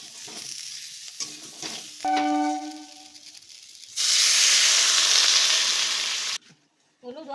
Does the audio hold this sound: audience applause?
no